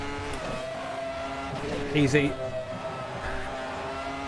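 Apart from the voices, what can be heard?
Ferrari V10 F1 car engine in a VR racing video game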